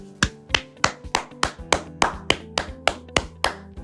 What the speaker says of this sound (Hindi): आइए हम सब एक दूसरे के लिए ताली बजाएं